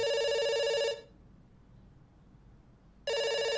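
Telephone ringing in the video game Dr. Langeskov, The Tiger, and The Terribly Cursed Emerald, with a loud electronic ring, a two-second pause, then the ring starting again.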